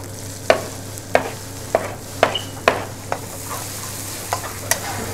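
Onions frying with garlic paste in a hot pan over medium heat, a steady sizzle punctuated by about eight sharp spoon clacks and stirs at a loose rhythm, close and clear.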